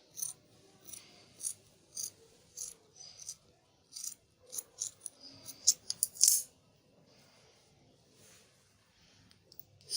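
Scissors snip through fabric while a turtleneck straight gown is cut out, a series of crisp close cuts in an uneven rhythm that quickens before stopping, with little else around.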